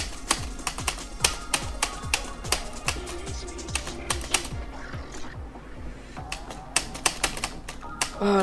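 Quick, sharp clicks keep coming while Geometry Dash is played by pounding with a fist, in bursts of fast taps with short pauses and a steady game soundtrack behind.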